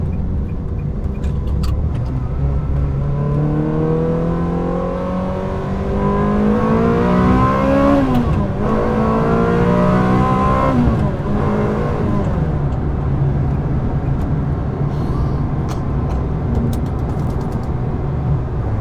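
A Ferrari sports car engine drones steadily while driving, rising and falling in pitch as it shifts through gears, loud and close throughout.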